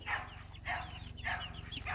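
Farm chickens cluck in a quick series of four bursts at an even rhythm, fairly close and moderately loud, with no talk over them.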